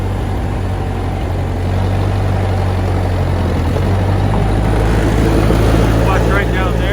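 A Massey Ferguson tractor engine runs steadily at close range, a low, constant rumble that holds even throughout with no talking over it.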